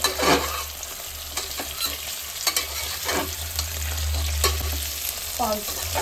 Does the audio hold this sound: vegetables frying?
yes